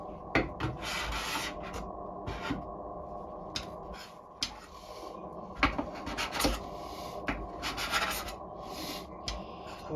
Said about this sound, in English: this paint scraper's probably gonna be fucking fried when I'm done with this